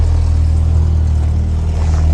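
A Peugeot 106 petrol engine idling steadily just after starting up. The deep, continuous rumble is loud and close, with an even, unchanging tone and no voices over it.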